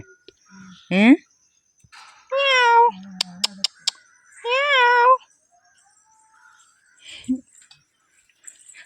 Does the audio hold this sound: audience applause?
no